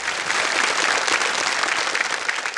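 Studio audience on the KBC quiz show claps for a contestant's correct answer, a loud, dense burst of many hands applauding steadily.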